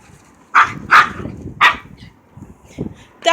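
A dog barks three sharp times close by, the barks spaced about half a second apart, followed by softer scuffling and a faint yip, with no one talking.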